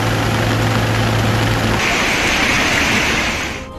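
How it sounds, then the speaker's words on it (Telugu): Heavy rain falling across Hyderabad, a loud, dense and continuous roar of downpour with a droning engine-like hum beneath it through the first half. "ఆకాశానికి చిల్లు పడిందా అన్నట్టుగా కురిసిన వర్షంతో నగరం నరకంగా మారింది."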